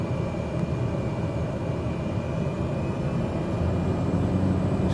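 The engine of a Cessna light aircraft drones steadily on landing approach, a loud, even, continuous hum heard from inside the cabin with no talking.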